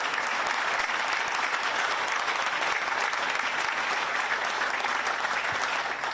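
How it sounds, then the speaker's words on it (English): A crowd of workers and guests at a company event in Iowa applauds steadily, with dense, sustained clapping that fills the space without pause for several seconds. "So give yourselves a round of applause."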